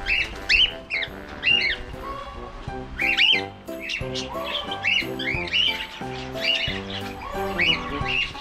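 Parakeets in an aviary at a farm give repeated shrill squawks and chirps in bursts, close and lively, while people talk underneath.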